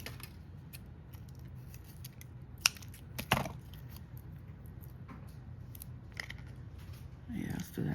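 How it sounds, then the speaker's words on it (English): Scissors snipping a piece of stocking banner material in half: a few sharp, close cuts spread through the clip, with brief handling noise and light movement between them. "And let's cut one of these in half."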